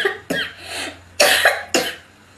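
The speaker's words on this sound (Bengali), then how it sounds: "অনবরত কাশি হয়ে যাচ্ছে" Three sharp coughs from a person suffering a persistent cough during seasonal weather changes, each a loud, close burst separated by brief pauses, with no talking.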